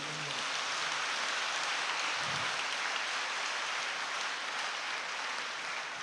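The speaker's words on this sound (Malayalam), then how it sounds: "MCYM മക്കൾക്കും പ്രത്യേകം ഞാൻ നിങ്ങളെല്ലാവരുടെയും നിറഞ്ഞ കയ്യടി കൊടുത്ത ഒരു അഭിനന്ദനം" An audience at a Catholic gathering with a bishop applauds the MCYM youth, a dense, continuous wash of clapping that holds at an even level throughout.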